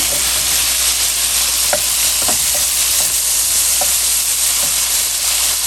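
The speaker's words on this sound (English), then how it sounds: "We're going to get the asparagus back in the pan." Asparagus sizzles loudly and steadily in a hot pan with garlic, salt, pepper and red pepper flakes, with a few light clicks of stirring scattered through the constant hiss.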